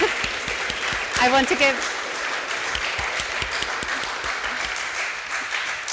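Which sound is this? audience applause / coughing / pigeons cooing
audience applause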